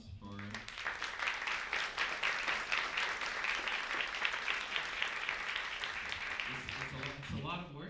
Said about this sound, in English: I'd like to take a moment to give them some applause